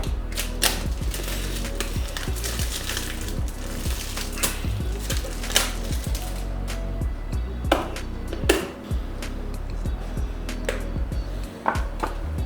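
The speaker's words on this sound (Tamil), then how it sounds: "ஃபஸ்ட்டு நம்ம கவரை வந்து ஓப்பன் பண்ணிடலாம்." Cover of an iQOO Z6 5G phone box being opened during unboxing, a run of close, sharp crinkling and tapping clicks with brief scrapes, fairly steady with a few louder snaps, no talking.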